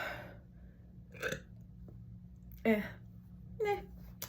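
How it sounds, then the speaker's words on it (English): A person burps at the end of a spoken sign-off, a few short throaty gulping bursts that are moderately loud and close, with low hum underneath and speech-like vocal texture. "I'm gonna burp."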